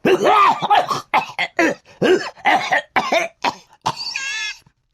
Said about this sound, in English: I haven't stopped coughing since then.